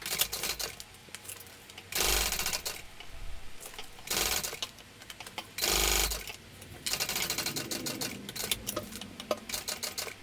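A sewing machine stitches a tote bag 1/8 inch from the outside edge, running in several loud rapid bursts of mechanical clatter separated by quieter pauses and light handling.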